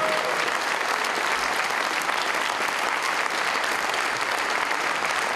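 An audience claps continuously in dense, sustained applause at a 40th anniversary performance of a Slovak children's folklore ensemble, filling the hall evenly throughout.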